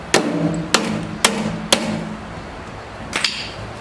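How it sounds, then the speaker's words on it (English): Several sharp rawhide hammer taps on rusty metal springs with a ringing after each, evenly spaced and then a quick double tap, close and loud. "so I got a hammer, my rawhide hammer. I'm gonna see if they're stuck or not"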